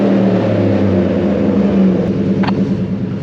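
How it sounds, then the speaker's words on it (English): A Ford Raptor fitted with a Roush Performance exhaust idles loud and close with a deep, steady rumble and a slight rise in revs, and no one talks over it. "Stand by, we'll do a little rev"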